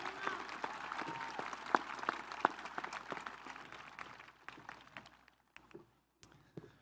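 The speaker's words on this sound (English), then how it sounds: "Let's have a quick round of applause for Dr. O'Donnell and our graduation committee" Applause from a high school graduation crowd, fairly loud at first with some sharp individual claps, then thinning out into scattered claps and a few voices as it fades.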